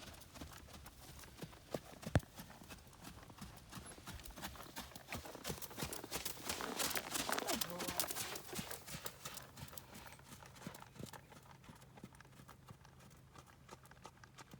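A young horse takes its first trot in an arena, its hooves clip-clopping in a steady, rapid rhythm at moderate distance, growing somewhat louder midway and then easing off, with faint background noise.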